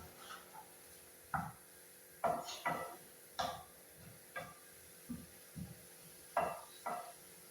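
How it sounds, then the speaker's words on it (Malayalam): A spoon stirs a bean stir-fry (payar thoran) made with thick-podded cowpeas in a pot, producing a series of soft scraping taps and clinks in an irregular rhythm, close but faint, with no voices. "നമ്മുടെ പയർ തോരൻ ഒന്ന് തുറന്നൊക്കെ നോക്കി ഇളക്കിയൊക്കെ വെക്കാം"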